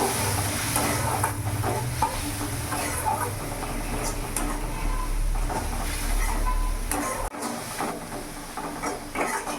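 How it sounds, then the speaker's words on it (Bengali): Chili powder masala with a splash of water stirred in a pan for a prawn and banana-flower dish, giving a steady close sizzle with scraping spoon strokes throughout, alone without talk. "মশলাটা কিছুক্ষণ আমি নাড়াচাড়া করে নিয়েছি"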